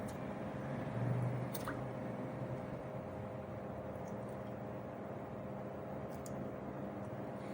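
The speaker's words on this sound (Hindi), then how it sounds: "अभी मैं इसमें डालूंगी चिकन" Raw chicken going into hot ghee in a cooking pot for junglee pulao: a soft wet squish near the start, then a steady broadband hiss with a low hum throughout, no voices.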